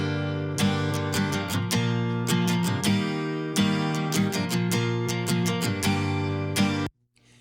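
Guitar part from a song with mix effects applied, a loud, full strummed chord pattern with rhythmic accents, playing alone and stopping abruptly near the end.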